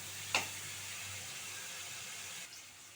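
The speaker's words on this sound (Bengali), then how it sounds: "পেঁয়াজটা একটু ভালো করে ভেজে নিতে হবে।" Onion frying in a pan, a steady close sizzle throughout with a brief sharper crackle near the start and no voices.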